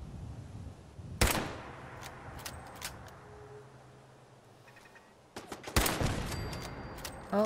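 Gunfire at a turret in Fallout 4: two sharp, loud bursts of shots stand out, one near the start and one near the end, separated by a quieter stretch of ambient game noise.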